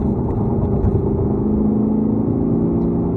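A Lexus GSF on a race track at Bedford gives a loud, steady engine drone that builds as the throttle is rolled on, heard from inside the car with no talk.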